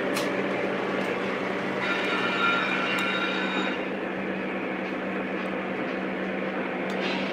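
A Lionel model train, a PRR heritage set, runs with a steady, continuous rumble and whir of wheels on track, close and fairly loud with no talking.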